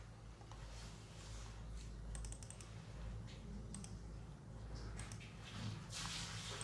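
Computer keyboard typing during a stenography typing test, a quiet continuous patter of soft key clicks with occasional sharper taps, steady throughout with no one speaking.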